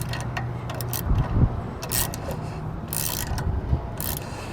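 Hitch bolts on a B&W Companion OEM 5th wheel hitch in a 2022 Ram 2500 tightened with a 9/16 inch wrench: close metallic ratcheting clicks and scraping come in short bursts over a low background hum.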